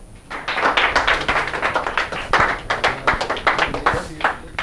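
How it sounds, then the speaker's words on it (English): Classroom audience applause in a physics lecture on standing waves, a steady patter of many hands clapping for several seconds with uneven swells, close and fairly loud. "A little applause for the..."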